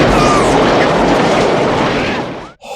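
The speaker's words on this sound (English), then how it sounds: "That was a real explosion." A large explosion staged for the 1987 film Good Morning, Vietnam, a loud, sustained broadband roar and rumble that fills nearly three seconds before cutting off abruptly.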